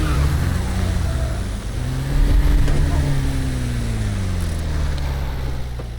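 Car driving in Roblox traffic after a pit maneuver on an NPC vehicle in A Desrt, a steady engine drone with rising and falling pitch sweeps, loud and continuous, with talk over it.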